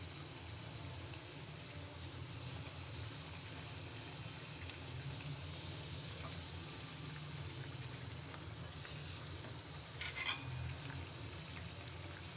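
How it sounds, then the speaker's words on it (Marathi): Rice-flour puris deep-fry in oil with a low, continuous bubbling hiss that stays faint and even, broken by a brief utensil clink near the end, and nobody speaks. "आणि आता या पुऱ्या आपण तेलामध्ये अशा छान तळून घेऊया."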